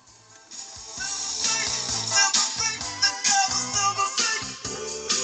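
Funk music played through a car's FM radio on 106.7, relayed from a phone over the aux input, with a steady thumping beat and bass, moderately loud and filling the whole stretch with no talk.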